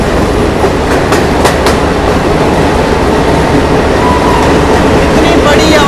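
Train emerging from India's longest rail tunnel on the Banihal–Qazigund section of the Baramulla–Udhampur rail link, a steady loud rumble with clattering wheels and brief high squeals, continuous and close throughout.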